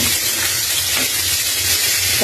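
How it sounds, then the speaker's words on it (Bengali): Hot oil spattering while frying, a steady, close, bright hiss that holds evenly throughout with no voices. "এই যে এটা ফুটে একদম আমার হাতে এসে পড়েছে তেল, গরম তেল"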